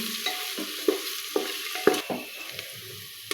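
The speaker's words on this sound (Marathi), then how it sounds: "कांदा हलकासा गुलाबी होईपर्यंत मिडियम गॅसवरती चांगला परतून घ्यायचा आहे" Chopped onion with crushed ginger-garlic sautéing in a pan over medium heat, a soft steady sizzle broken by several sharp scrapes and clicks of a spoon stirring against the pan, close and fairly quiet with no talk.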